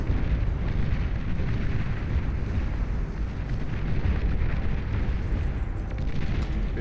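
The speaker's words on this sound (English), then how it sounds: "Enemy commander destroyed." Explosion of an enemy commander unit in the real-time strategy game Beyond All Reason, a loud, sustained deep rumbling blast that roars without a break for several seconds, heavy in low frequencies, with no voices over it.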